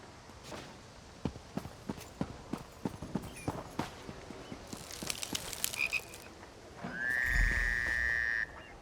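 Frogs croaking at a dockside frog race in the game The Elder Scrolls Online, a series of sharp separate croaks in an irregular rhythm, then a hissing burst and a sustained whistling tone near the end.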